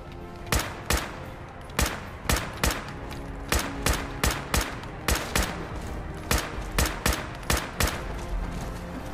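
Rifle fire in the video game Fallout 4 comes as a long string of sharp, loud single shots at an uneven but fairly quick pace over a low background hum.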